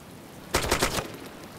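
Gunfire in a hunting video game, a quick cluster of sharp shots lasting about half a second over a steady background hiss.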